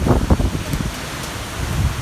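Hurricane Ida's wind roars and rustles steadily around a yard in Terrebonne Parish, with a few gusty bumps at the start settling into a continuous whooshing rush.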